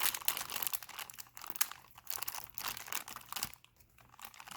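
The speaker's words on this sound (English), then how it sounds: "Maybe I'll just unwrap it here." Crinkly plastic packaging being torn and peeled off a Lionel Pokemon model train gondola car, bursts of crumpling and crackling close up, with no talking.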